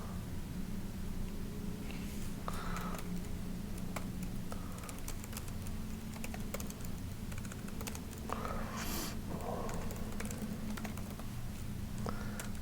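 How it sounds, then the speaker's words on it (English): Typing on a computer keyboard, a steady patter of light key clicks with a few louder taps, heard over a constant low hum and hiss of background noise. "So I'll go ahead and type in here."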